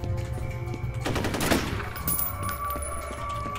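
Gunfire in the F.E.A.R. video game: a dense burst of rapid automatic shots around the middle, with scattered shots and game noise before and after, loud and without talk.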